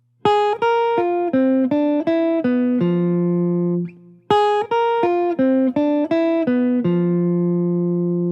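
A clean guitar plays a quick melodic jazz line of plucked notes, ending on a held tone, then repeats the phrase, loud and close with no voices.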